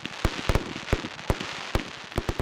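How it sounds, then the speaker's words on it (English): Sharp firework bangs crack out irregularly, several close together, over a faint crackling background. "the now yearly firework display"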